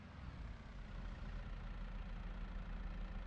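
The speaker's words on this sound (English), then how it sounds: "This tractor really, really, really needs a thorough service." A worn tractor engine labours up a hill in a farming video game, giving a continuous low, rumbling drone at a steady level with no voices.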